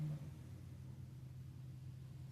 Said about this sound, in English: and the car is running.